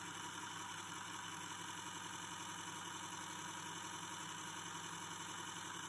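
A Scalextric Vanwall slot car's small electric motor runs at low revs with its rear wheels lifted, giving a steady, continuous whirring hum with no talk.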